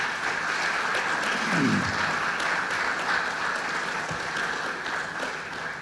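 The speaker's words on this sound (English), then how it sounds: "let's give all these inductees a great round of applause" A crowd at a Hall of Fame induction ceremony gives sustained applause, steady and fairly loud throughout, with a brief voice speaking over the clapping.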